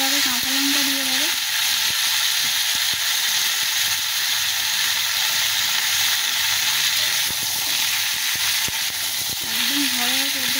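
Taro and potato sautéing in a pan in a home kitchen, a steady loud sizzle and frying hiss running throughout, with occasional scraping stir clicks and a voice speaking briefly at the start and end.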